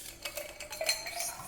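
Ice cubes clink and rattle into a cocktail glass, several quick bright knocks close by.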